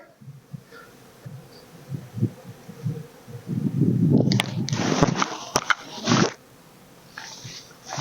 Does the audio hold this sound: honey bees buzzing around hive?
yes